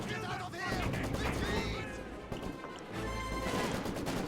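Dense 120mm mortar fire and explosions in Company of Heroes 2 battle, with heavy booms and crashing blasts over continuous gunfire, loud and close, while a voice talks over the action.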